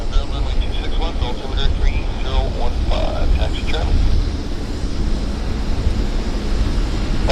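A WestJet airliner departs Vancouver Airport bound for Edmonton, its jet engines producing a loud, continuous broadband roar throughout, with voices talking over it.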